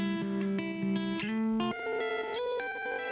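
Electric guitar played through distortion and chorus effects, a short run of sustained notes and bends changing pitch every half second or so, close and moderately loud with no talking.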